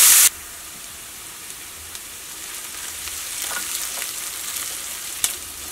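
Chopped onion, ginger and garlic frying in a pan for paneer masala, a steady close sizzle with soft crackles and occasional pops throughout, after a brief loud burst at the start.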